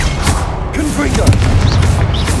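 In Hogwarts Legacy, a Confringo blasting spell goes off as a heavy, rumbling explosion that fills the scene, with a shouting voice heard over the boom.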